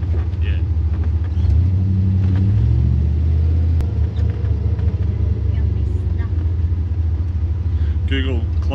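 A turbocharged LS-engined Holden Kingswood under way, its loud, steady engine rumble and road drone running throughout with a brief surge as it shifts hard, while people talk over it.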